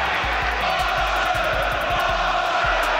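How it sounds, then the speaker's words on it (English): A boxing arena crowd at a WBA championship bout roars in a dense, continuous wall of cheering and shouting, steady and loud throughout with rhythmic low thumps underneath. "Well, the crowd rising to that."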